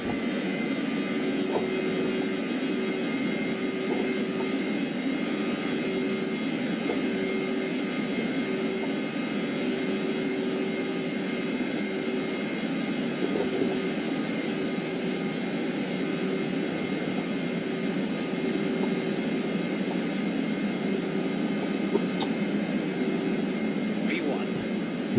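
American Airlines jet engines roar steadily through the takeoff roll from San Diego, a sustained loud drone with a constant whining tone inside the cabin or cockpit, with faint voices now and then.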